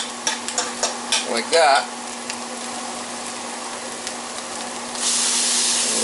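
Food is scraped to the side of a sizzling pan for smothered sirloin tips, with several quick scraping knocks over a steady fry that swells into a louder, brighter sizzle near the end.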